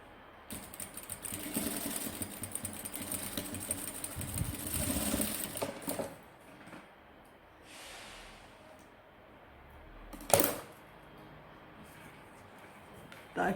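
A sewing machine runs a finishing seam on a patchwork zipper pouch, a close, rapid mechanical stitching rattle for about five seconds, then stops, followed by quiet handling sounds and a single sharp click.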